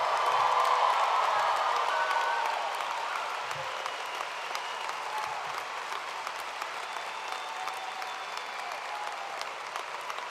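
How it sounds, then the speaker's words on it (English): Families and guests at a university commencement ceremony break into sustained applause after graduates turn their tassels, a dense crowd clapping with some cheering that swells at first and then holds steady. "And then everybody else is going to clap."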